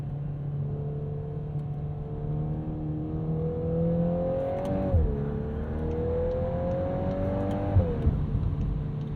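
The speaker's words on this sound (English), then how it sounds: "you can snap off downshifts in this car" A 2022 Volkswagen Golf R engine revs steadily upward, dips sharply as gears shift, then climbs again before another quick shift; a close, continuous whirring drone with no talking.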